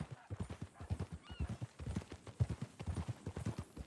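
Horse hooves clip-clop at a steady walking rhythm in the video game Red Dead Redemption 2. The regular, fairly faint beats carry on throughout with no talk over them.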